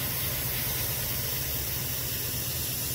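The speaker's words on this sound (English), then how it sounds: "let's get the priming done." Aerosol primer spraying onto a 1/72 scale B-24 Liberator model kit, a steady, close hiss that runs unbroken and evenly loud the whole time with no voices.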